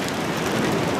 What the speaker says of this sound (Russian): Вот это я понимаю, дождик.